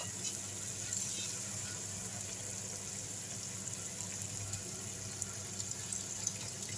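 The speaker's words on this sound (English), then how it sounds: "So now I'm going to be pouring in the chicken stock." Chicken stock pours into a pot of Nigerian pepper stew, a continuous soft liquid gush and splash with a hiss, steady throughout at moderate loudness.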